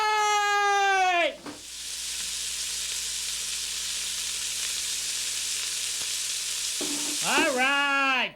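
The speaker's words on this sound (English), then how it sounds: "Sauteing in the pan. We got some beautiful little fritters." Fritters sauté in a hot pan with a steady, close broadband sizzle filling the middle of the clip, bracketed at start and end by a short burst of musical tones that gives way to it.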